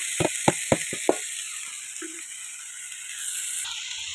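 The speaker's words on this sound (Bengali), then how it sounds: "যে সবজিটা একটু কেটে রেখেছিলাম সেটাকে একটু ভাজা ভাজা করে ভেজে নেব" Cut mixed vegetables hit a hot oiled pan with a few sharp knocks and clatters, then settle into a steady, soft sizzle that continues alone to the end.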